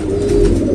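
Ferozpuri Teddy breed pigeon giving a low, brief close coo that hums steadily for under a second.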